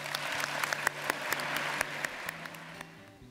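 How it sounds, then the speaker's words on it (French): A casino-night audience applauds the croupier being introduced, a steady wash of clapping with sharper individual claps standing out, fading slightly toward the end; a faint murmur of voices sits underneath. "Applaudissons chaleureusement Monsieur Christophe Lerouge"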